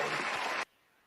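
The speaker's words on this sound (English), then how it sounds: "haven't given the applause in a while" Applause, crowd clapping at an Oktoberfest event, a dense burst that stops abruptly after about half a second, followed by near silence.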